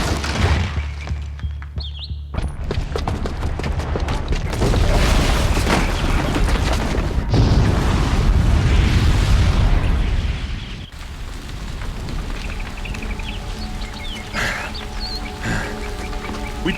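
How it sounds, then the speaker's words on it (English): A booby-trapped bomb explodes in Horizon Zero Dawn with a loud, sustained roar of blasts and crumbling debris lasting about ten seconds, then dying down into quieter rumbling and game effects. "the booby trap on the bomb downstairs is gonna get set off"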